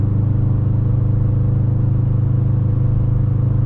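A 2021 Subaru WRX STi with a stock downpipe and RK titanium track exhaust drops into third gear and holds near 3,000 rpm, producing a loud, steady, close exhaust drone with a deep burbling rumble and no talk.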